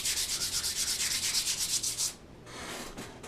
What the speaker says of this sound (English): sand that finish just a little bit with a 60 grit sandpaper